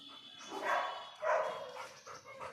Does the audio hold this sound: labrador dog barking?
yes